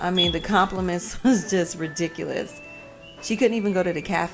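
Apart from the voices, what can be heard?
No everyday noise stands out behind the speech.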